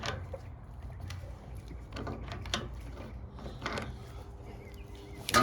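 Wrench work loosening a bolt with a lock washer on a 1948 Ford 8N tractor, heard as scattered metallic clicks and ratcheting taps at close range in a fairly quiet space.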